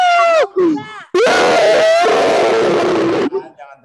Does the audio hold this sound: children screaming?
yes